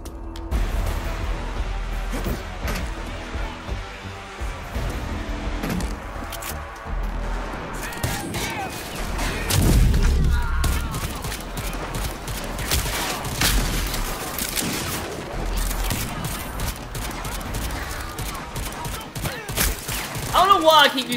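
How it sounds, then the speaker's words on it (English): Pistol gunfire in the video game Rage 2, sharp shots scattered among booms, crashes and game music, fairly loud and busy throughout, with a voice speaking over parts of it. "I don't know why I keep using the pistol more than my other weapons, but I enjoy it so much."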